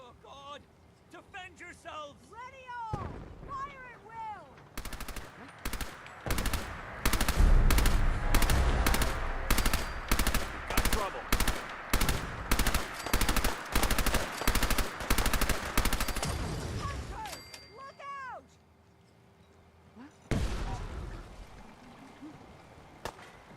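Rapid bursts of gunfire ring out in a video game battle in Fallout 4's Far Harbor, repeated loud shots in steady volleys over about twelve seconds, with shouted voices before and after the shooting.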